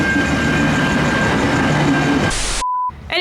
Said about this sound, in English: oh my God, there's a train coming